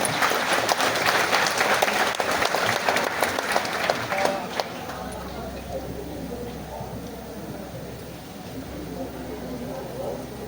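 A church congregation claps together in a dense burst of applause for several seconds that fades into a softer murmur of room noise and light movement.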